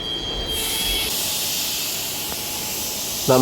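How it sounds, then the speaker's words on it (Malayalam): Steady rumble and hiss from an Indian passenger train halted at a station as its engine is uncoupled from the coach, with a faint metallic knock partway through and a brief harmonic squeal near the end. "ട്രെയിനിൻ്റെ എൻജിൻ ഭാഗം ആ ബോഗിയായിട്ട് ഘടിപ്പിച്ചിരുന്ന ഭാഗത്ത് നിന്നും അടർത്തി മാറ്റുന്ന ഒരു സീനാണ്"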